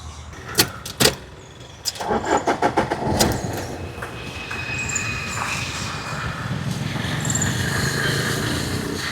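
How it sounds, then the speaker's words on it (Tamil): A few sharp clicks and a short cranking, then a car engine with a Kotaraj engine catches and settles into a steady, rumbling idle nearby. "வண்டி இன்ஜினும் ஸ்டார்ட் பண்ணி காட்டுறேன்"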